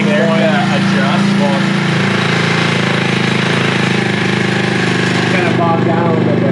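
A Honda CT90 motorcycle engine fitted with a 125cc carburetor revs loud and close, a steady buzzing drone with rising and falling throttle that holds for several seconds before easing off near the end.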